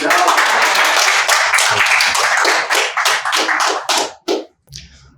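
Audience applause at a live Hindi humour poetry show, a loud burst of many hands clapping at once that thins into scattered claps and fades out near the end.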